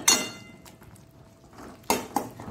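Cooked bilimbi being mashed in a metal pot, giving a loud clattering clang at the start, softer scraping, then another sharp double clank of utensil against pot near the end.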